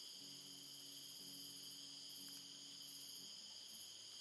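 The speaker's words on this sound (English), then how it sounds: "the sounds of the crickets in the jungle and all the animals" Dense, steady chorus of crickets and insects trilling at high pitch in the jungle, with faint low hums drifting underneath; no voices.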